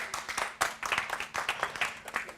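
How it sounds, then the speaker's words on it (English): An audience applauds close by at a moderate level, a steady patter of many hands clapping for a couple of seconds. "Ladies and gentlemen, let's give them a round of applause."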